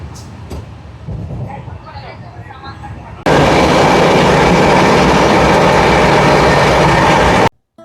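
A moving passenger train on the Howrah to Mumbai Mail run first rumbles softly with faint voices nearby, then a loud, steady roar of wheels and wind bursts in and holds before cutting off abruptly.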